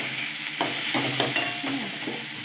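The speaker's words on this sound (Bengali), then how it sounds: "দেখো পেঁয়াজ ভাজাটা হয়ে যাচ্ছে" Onions sizzle in a hot pan for a Bengali mutton curry, with a steady frying hiss broken by several scraping stirs of a spatula, close and clear with no talking.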